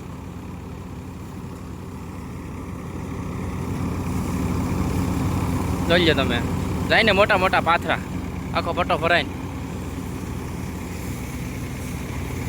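A tractor engine drones steadily and low in a groundnut field during harvest while someone talks over it at close range.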